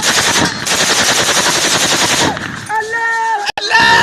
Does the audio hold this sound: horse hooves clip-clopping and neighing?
no